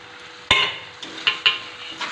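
Spices sautéed with chopped tomatoes in a pan while being stirred, with a few sharp spatula scrapes and knocks against the pan over a soft sizzle, close and fairly loud.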